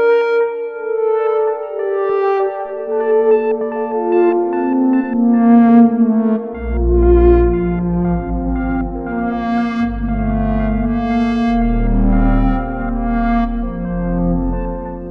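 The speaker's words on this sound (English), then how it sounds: "And, of course, there's beautiful, warm kinds of sounds like this." A warm synthesizer pad from Spectrasonics Omnisphere 1.5 unfolds in slow, overlapping sustained tones, with a deep bass layer entering midway and thickening the sound.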